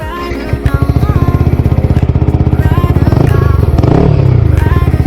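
A Yamaha R15 V4 motorcycle with a 3Tech Tridente exhaust cranks and fires up nearby, settling into a rapid, loud, pulsing idle with a few throttle blips that swell the engine note, with no speech.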